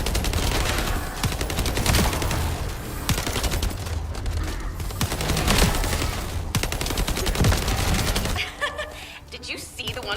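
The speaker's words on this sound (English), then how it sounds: "Summoning turret." A summoned turret in The First Descendant firing dense, rapid bursts of gunfire throughout, mixed with booms and other battle noise, loud and close, while voices talk over the shooting.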